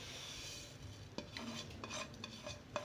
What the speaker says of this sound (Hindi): हम तमाम तिल इसमें डालकर इसको मिक्स कर लेंगे आराम से